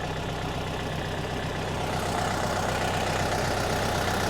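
A DTZ 5404 tractor engine runs steadily at idle, a close, constant low rumble that doesn't change, with no voices.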